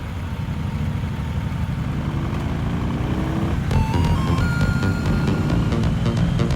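A motorcycle pulls away hard in the Vosges mountains, front wheel lifted in a wheelie, its engine note climbing steadily as it accelerates, loud and close throughout.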